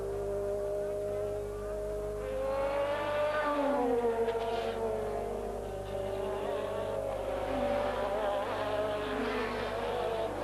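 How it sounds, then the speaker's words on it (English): Formula 1 cars racing at a 1986 Grand Prix, including McLaren and Ferrari cars, a continuous high-pitched engine whine rising and falling as cars accelerate and pass, loud and sustained, with a faint commentator voice beneath. "Prost went past Alboretto's Ferrari into 3rd place"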